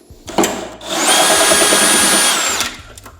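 A power screwdriver runs on screws during a teardown of a Sony ULT Tower10 speaker: a short rattle, then a loud, steady whirring whine lasting about a second and a half before stopping, close to the listener.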